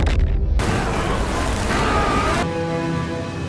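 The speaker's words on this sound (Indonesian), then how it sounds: "abis Godzilla nembak laser ke kapal kosong ini" A film sequence of Godzilla firing its atomic beam at an empty ship in Godzilla Minus One brings a loud, sustained roaring blast with dense rumbling low end, easing slightly toward the end.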